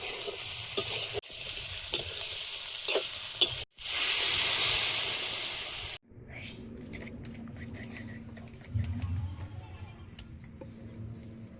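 Water poured into a pan of spiced egg, soybean and potato curry: stirring and frying give way to a sudden loud, steady hiss that lasts a few seconds, then a softer bubbling simmer.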